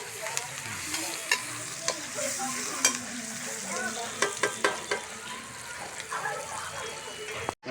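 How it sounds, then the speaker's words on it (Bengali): Capsicum fries in a pan at an outdoor picnic cookout, a steady sizzle broken by repeated sharp scraping stirs, with faint voices in the background. "আমাদের ক্যাপসিকাম লাল লাল করে ভেজে নিলাম।"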